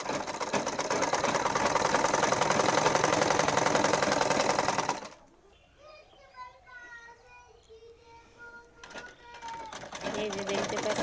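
A sewing machine stitching a pyjama hem, a loud steady close whir for about five seconds before stopping, followed by someone speaking, with a brief stitching burst returning at the end.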